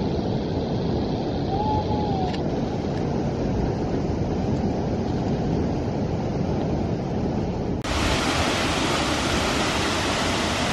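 Thác Tiên waterfall at Đèo Gió roars steadily and loudly close by, a dense unbroken rush of falling water with spray, continuous and without letup for the whole stretch.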